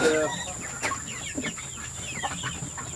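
Chickens cluck close by on a small backyard farm, a few birds giving short clucks and calls against a steady high background hum, with no talking.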